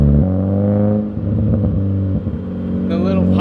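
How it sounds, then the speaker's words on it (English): Mazda Miata NA fitted with a Manzo exhaust, a loud steady engine drone that dips and gives a few brief pops and crackles on deceleration, heard close up. "And then the backfires on the the deceleration is just insane."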